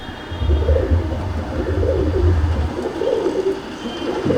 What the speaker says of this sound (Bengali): পরবর্তী আর একটা নর পায়রা দেখাচ্ছি